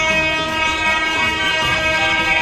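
A train rolls past continuously, loud and close, with a dense rumbling roar and sustained tonal horn-like drones layered over it, station-side near Tarkeshwar.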